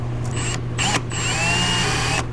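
A spot weld drill whines at high pitch in short bursts, then a longer sustained run, biting into spot welds on 1962 Chevy C10 pickup sheet metal up close over a steady low hum.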